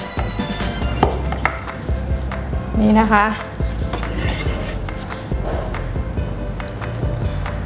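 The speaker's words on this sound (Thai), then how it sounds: "1ลูกหั่นได้ประมาณ3ชิ้น3ซีกนะคะ" A knife cutting a lime on a cutting board, several crisp irregular cuts, close up, with someone briefly speaking in Thai.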